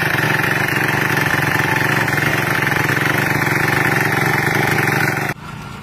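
A small fuel-powered tilling machine engine runs steadily and loudly up close with a buzzy, even drone, then cuts off abruptly near the end.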